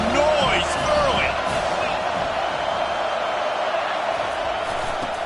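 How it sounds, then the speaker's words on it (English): A college football stadium crowd keeps up a constant, loud roar, with a commentator talking over it. "This crowd bringing the energy and noise early."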